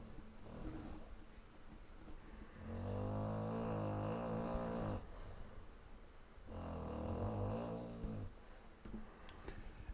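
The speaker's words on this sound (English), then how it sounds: "And if you're hearing snoring in the background," Rusty, a 90-pound pit bull, snores in two long, deep, rumbling breaths a few seconds apart, close and fairly loud, with quieter breathing between them.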